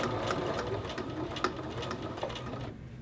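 A sewing machine runs steadily, edge stitching around the outside edge of a men's shirt collar, with a continuous close mechanical whir and faint periodic clicks for about three seconds before it stops.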